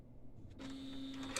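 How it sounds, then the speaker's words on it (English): Epson L1300 ink tank printer running its automatic damper fill: a quiet mechanical rustle, then a steady electric motor whine that holds evenly for most of the moment, with a small clunk at the end. "automatic damper fill starts when you turn on the printer first time"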